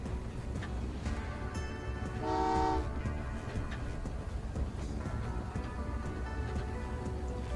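A train in the video game Train Valley 2 rumbles along steadily throughout, with a loud horn blast rising briefly in the middle before the running noise carries on.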